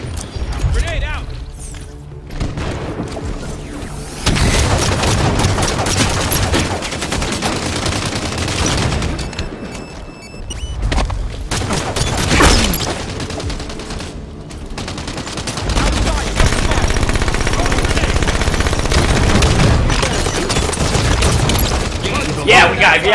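Grenade blast and heavy gunfire in a tactical shooter game, with loud, dense bursts of automatic fire and booming explosions running almost continuously, while players shout over the din.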